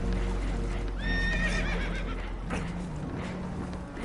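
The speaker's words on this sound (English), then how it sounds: "Horses are spooked, and we're taking on water." Spooked horses neigh and whinny in Red Dead Redemption 2 aboard a damaged boat taking on water, a sharp rising whinny cutting through a loud, rushing background with faint hoof clatter.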